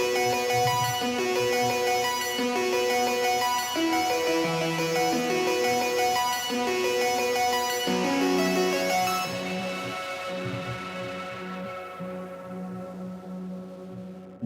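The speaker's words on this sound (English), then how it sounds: "It's also using Havoc, the lead alpha preset." Havoc synth lead on the Lead Alpha preset in Studio One Pro 7, playing a bright, harmonically rich melodic line with stepping notes and layered chords, then sustaining and fading out over the last few seconds; no voices.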